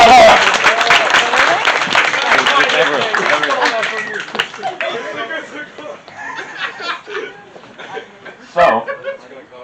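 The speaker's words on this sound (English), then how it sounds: "Round of applause for Mr. Hattler!" A school audience claps and cheers at a junior-year costume moment, starting as a dense, loud burst mixed with laughter and chatter, then thinning and fading into scattered claps and voices.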